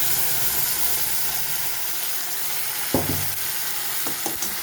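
Ground spice paste and coriander leaves sizzle in mustard oil for a coriander fish curry, a continuous hissing fry with a few sharp stirring knocks toward the end, and no voices.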